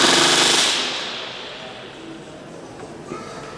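A rivet gun hammers a rivet into the rear fuselage of a Lancaster bomber during restoration, sounding as one loud, close rattling burst that stops within a second and leaves a quiet workshop with a faint tap.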